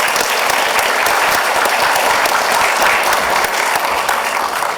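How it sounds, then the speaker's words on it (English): Loud, dense applause from a conference audience thanking a panel of speakers on fund distribution networks, a sustained wash of clapping held evenly throughout. "And let's give our speakers a round of applause then."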